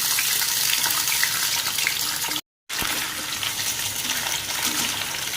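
Cut pointed gourd pieces frying in hot oil, giving a steady, bright crackling hiss that cuts out briefly partway through and then resumes at the same level.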